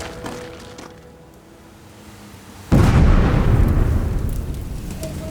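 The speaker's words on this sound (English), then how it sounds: "There's been an explosion outside the camp, close enough to concern the garrison and the medics." A single loud explosion goes off outside a military camp in Afghanistan, a sudden heavy boom after a quiet stretch, followed by a long rumbling roar that lingers at high level to the end.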